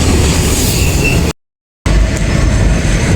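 A train runs on rails as it slowly enters Kandra junction near Jamshedpur, a loud, steady rumble of wheels and carriages close by, with a brief dropout in the middle.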